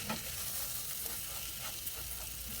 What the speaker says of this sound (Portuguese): já vou deixar o arroz fritar um pouquinho